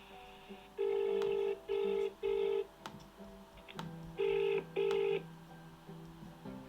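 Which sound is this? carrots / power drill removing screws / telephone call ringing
telephone call ringing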